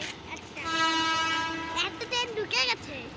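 A train arriving at Sealdah railway station sounds a sustained horn blast over the hum of the platform, followed by a shorter wavering horn note, with people talking nearby.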